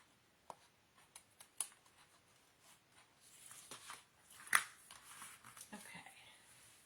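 Scissors cutting paper while making a scrapbooking pocket album, faint close snips and crinkles scattered over several seconds, with a louder rustle midway.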